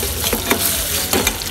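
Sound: frying eggs with cumin, onion and turmeric

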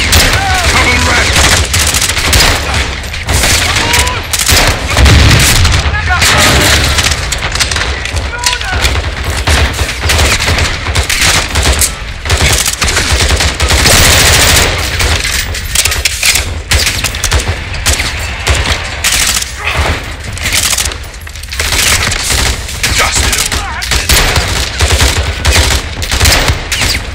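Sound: gunfire from a video game (Call of Duty: Modern Warfare 2)

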